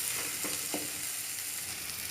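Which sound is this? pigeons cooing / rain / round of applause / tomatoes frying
tomatoes frying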